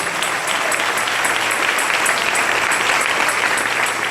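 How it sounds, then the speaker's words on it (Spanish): Steady, dense applause from a church congregation filling the room throughout, loud and continuous with no voices over it. "Denle un aplauso al Rey en esta hermosa mañana"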